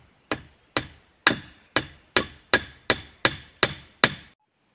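Ten sharp hammer blows drive a nail into wood, struck at a steady, even pace, each hit ringing briefly before the next, close and loud with no talking.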